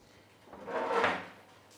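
Tray sliding out of a Breville Smart Oven Air Fryer Pro toaster oven with a non-stick interior, a single soft rising-and-falling slide lasting about a second, close and fairly quiet.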